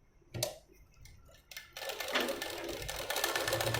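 A sewing machine stitches along the edge of a boat-neck blouse, starting with a few isolated clicks and then settling into a steady, close whirring run.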